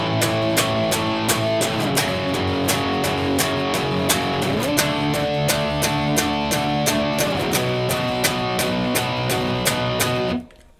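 Guitar strumming the chorus of a song with steady, evenly spaced strokes and sustained chords, loud and close, with no talking, ending in a quick cutoff near the end.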